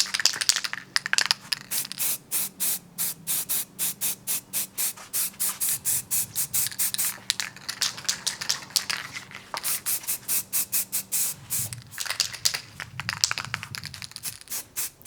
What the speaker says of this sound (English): I have sprayed a 3000 point Tyranids army